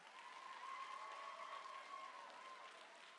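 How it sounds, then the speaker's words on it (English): Applause from a school assembly audience, a steady even wash of clapping held at a constant level throughout with a faint tonal hum running beneath it. "Give her one more round of applause."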